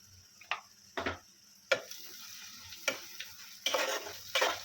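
Coriander powder and spices are sautéed in a pan. A utensil scrapes and taps against the pan in scattered strokes over a faint, quiet sizzle.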